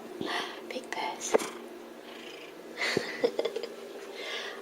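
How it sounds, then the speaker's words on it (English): A shelter cat purrs with a big, low, steady rumble close by, while a person speaks softly over it in a near-whisper. "So she's purring. Can you hear that purr? It's quite big."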